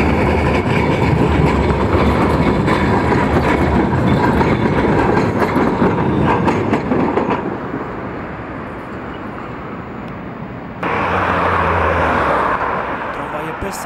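A Pesa Twist three-section, unidirectional, fully low-floor tram of MPK Wrocław rumbles past with steady rolling noise and wheel clatter, loud and close, fading then surging again near the end; someone speaks over it.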